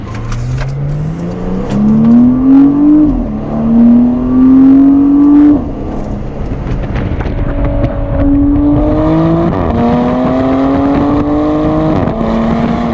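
A Porsche Panamera 4 E-Hybrid accelerates from inside the cabin, its engine tone climbing steadily through the gears, each shift marked by a drop and then a new rising pull, loud and continuous.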